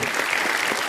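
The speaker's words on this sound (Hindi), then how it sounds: "जोरदार तालियां" A studio audience at a TV comedy talk show claps in loud, dense, steady applause that fills a short burst without pause.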